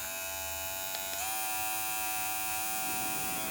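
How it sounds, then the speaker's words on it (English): An electric dog clipper runs in turbo mode while a thick-coated Standard Poodle is groomed, giving a steady high-pitched motor buzz that holds constant throughout with a slight shift early on. "that's why I'm going to use the clipper in the turbo position."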